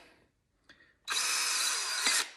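Close and loud, a power drill with a 1/8 inch bit pre-drills holes in polymer air vents for a Ski-doo 850 Turbo snowmobile, one brief tap followed by a steady whine of just over a second.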